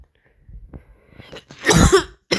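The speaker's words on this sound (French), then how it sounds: "Pour ma toux, elle est bizarre." A person gives a single sharp, close cough near the end, after a few soft, scattered noises, in a casual Roblox Blox Fruits gaming session.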